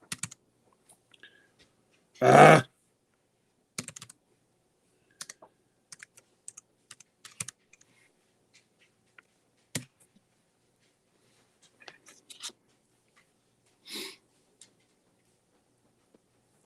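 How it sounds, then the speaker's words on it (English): Sparse keystrokes tap on a computer keyboard, soft and intermittent clicks scattered across the quiet, with one brief louder burst of noise and a short exclamation from a voice. "I'm going to try to type in here and just see if you can see what I'm typing."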